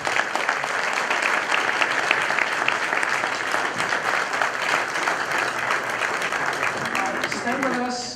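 A large audience applauds a conference panel at a chamber of commerce event, with steady dense clapping at constant loudness throughout and no voices over it.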